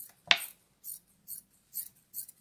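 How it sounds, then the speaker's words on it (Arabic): Scissors snipping through girls' dress fabric in about five short, crisp cuts at a steady pace, close and quiet with near silence between snips. "وبقص على نفس الفستان"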